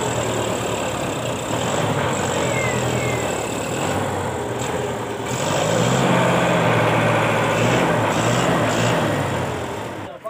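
A tractor engine labors to haul a trolley stuck in the ground, a loud, continuous low rumble close by that swells heavier midway through and holds steady without pause.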